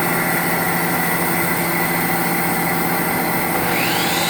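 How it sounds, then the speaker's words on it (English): A TC650E CNC lathe at a bat maker turns a wooden baseball bat, giving a steady, loud, continuous machine whine with broadband cutting hiss and no pauses, a slight tonal rise near the end. "TC650E CNC lathe."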